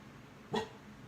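A dog barks once at a vinyl record, a short, sharp yap standing out from a quiet, hissy room.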